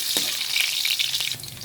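Onion and garlic sizzle hard in hot oil in a pan, a bright continuous frying hiss with a few faint stirring clinks, close and steady with no talk.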